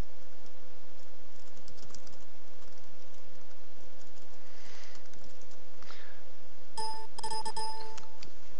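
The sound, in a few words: typing a password on a computer keyboard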